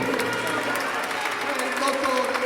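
Applause from a live concert audience fills the space as dense, continuous clapping, while an announcer's amplified voice speaks over it.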